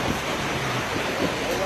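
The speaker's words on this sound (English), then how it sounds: "listen to that water" Rushing hurricane floodwater near a bridge after Hurricane Helene, a steady loud broadband roar of churning water with no break, heard close and continuous.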